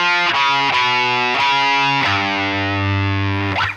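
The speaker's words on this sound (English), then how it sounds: "I'm just going to kick on a distortion pedal for" Electric guitar played through a distortion pedal, with heavy sustained chords changing every half second or so before one long ringing chord, loud and close with no talking.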